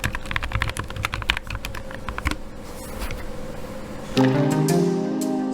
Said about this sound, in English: as you can hear from the previous sound test, a lot of sound bunching when you press the key because of the absence of dampening foam